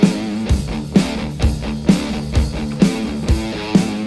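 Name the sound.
electric guitar playing proto-metal intro riff, left channel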